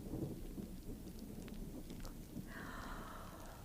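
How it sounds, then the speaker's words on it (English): Thunder rumbles over steady, heavy rain during an outdoor thunderstorm, with a low, continuous roar and no voices. "sounds like a storm blowing up outside, doesn't it, children?"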